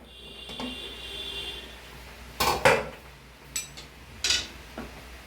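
A pan of cabbage frying with onions is covered with a lid, giving a few sharp metallic clanks and clatters of the lid against the pan over faint background hiss.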